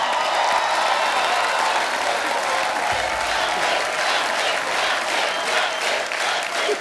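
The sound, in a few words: studio audience applause for Ranbir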